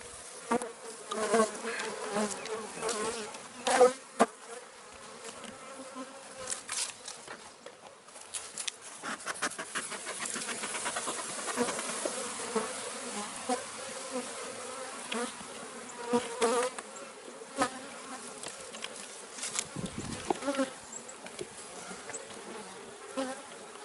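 Bees swarm during a hive transfer, giving a dense, continuous buzzing close by, with scattered knocks, taps and handling noises throughout.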